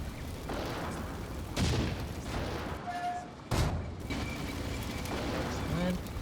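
A WWII armoured clash in Combat Mission: Barbarossa to Berlin brings muffled gunfire and booms. Two heavier bursts stand out over a steady rumble of distant combat.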